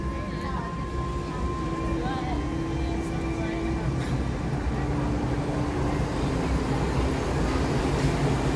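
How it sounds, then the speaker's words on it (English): The Epcot monorail at Walt Disney World approaches with a steady mechanical rumble and a faint tonal whine, heard from a moderate distance beneath ongoing crowd chatter and talking. "Here comes the monorail."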